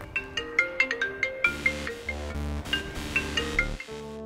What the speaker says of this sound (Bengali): ফোনটা ভাইব্রেট করে রাখবেন, যখন তখন বেজে উঠলে তো কনসালটেশন ব্রেক হয়